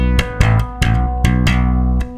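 Bass synth pedals play a low sustained riff under a guitar solo, with repeated rhythmic attacks about every third of a second, loud and up close with no talk.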